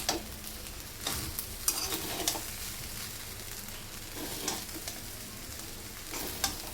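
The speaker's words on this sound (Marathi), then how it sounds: "आता आपण याच्यामध्ये कांद्याची पात टाकूया आणि मिक्स करून घेऊया" Spring onions being stirred into vegetable fried rice in a pan, a steady faint sizzle with recurring scraping stirs spaced a second or so apart, close and unaccompanied by voices.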